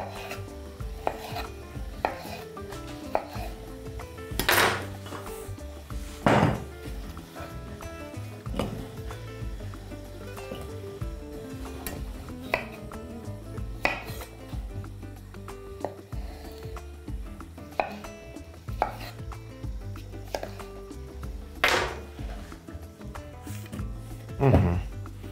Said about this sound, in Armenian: անկանոն կտրատում։